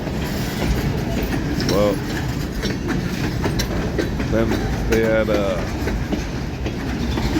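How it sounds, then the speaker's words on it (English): A long CN freight train led by ELS 503 and 400 rolls past near Green Bay, with a loud steady rumble, rhythmic wheel clatter and brief squealing wheel tones, while someone speaks briefly over it. "This is the second part of the first train."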